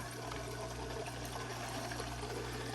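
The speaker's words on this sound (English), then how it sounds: "So all that water is coming up through here now, and it does drain the tank down a little bit." Water flowing up through aquaponics grow media from a fish tank, a continuous rushing, gurgling wash at steady level with no talk.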